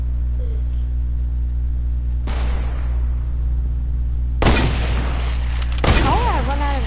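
Video game gunfire in three bursts: a broadband blast near 2.3 seconds and two louder volleys around 4.5 and 6 seconds, close and sharp over a steady low hum, with faint voice-like tones riding the last burst.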